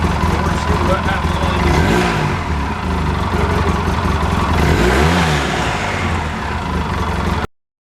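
Polaris RZR 800 side-by-side engine revving in neutral after a belt and clutch clean, rising and falling in two or three surges over a steady idle rumble, close and loud.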